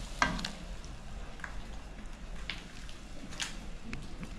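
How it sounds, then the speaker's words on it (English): A beef pizza topping mixture gently sizzles in a pan while a spoon stirs it, with intermittent scraping strokes over a low, steady frying hiss. "You give it a nice stir and you let it cook"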